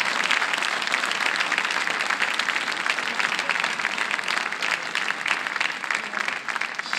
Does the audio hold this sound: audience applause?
yes